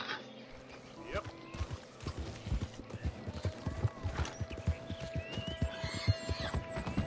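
A Clydesdale horse in Red Dead Redemption 2 clip-clops along in steady, close hoofbeats, with a brief whinny and faint background game sounds.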